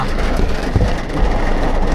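Heavy rain pours down in a loud, dense roar, with low rumbling underneath and no voices.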